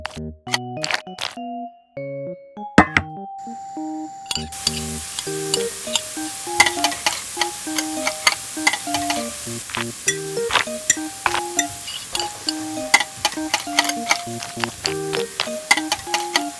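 Taco powder stirred into shrimp frying in a miniature kitchen: a few dry taps and scrapes, then a continuous sizzle with a steady run of small clinks and scraping stirs, close and crisp, no voices.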